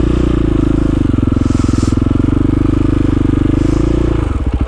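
A KTM motorcycle riding through an icy snow rut, a loud close engine drone with a rapid pulsing throb that holds steady, then drops away with clatter at the end.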